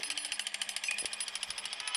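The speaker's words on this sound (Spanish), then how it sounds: "Taladro." A power drill, likely from a video game comparison, giving a rapid, even rattling buzz that pulses steadily throughout and sounds fairly close and continuous.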